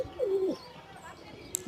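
Kept domestic pigeons, including males, give a single close, soft cooing call, followed by quieter background sounds and a brief sharp click near the end.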